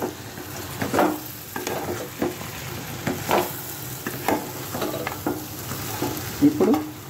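Food sizzles and fries in a pan while being stirred, with repeated scraping and stirring bursts over a steady hiss, close and moderately loud, no talking.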